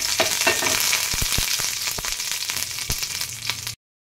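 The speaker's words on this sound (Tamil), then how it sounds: "கடுகு பொரிஞ்சதும் கருவேப்பிலை போட்டுறேன்." Mustard seeds and curry leaves sizzle and crackle in hot oil in a pan while tempering a ridge gourd chutney, a loud continuous hiss with sharp popping bursts, close up and with no talk, ending abruptly.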